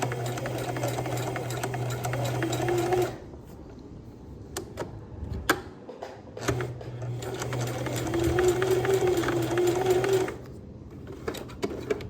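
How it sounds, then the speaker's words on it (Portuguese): Sewing machine stitching along a zipper on a children's fabric pencil case, a steady close motor hum in two long runs with a short pause between them marked by clicks and handling noise. "vou costurar só até aqui a marcação."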